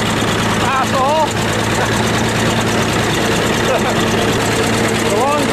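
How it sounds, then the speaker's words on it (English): A bulldozer engine runs steadily on a snowy farm, a loud, constant low rumble with a rhythmic idling throb and whining tones throughout. "Why are we driving the bulldozer?"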